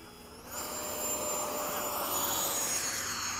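An F/A-18 jet takes off for a touch and go, a continuous rushing engine roar that builds quickly and holds steady, with a rising whine layered over it.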